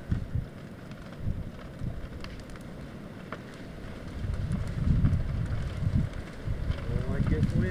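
Wind gusts buffet the microphone outdoors at a barn burning, a steady low roar that swells louder toward the end, with muffled voices talking underneath.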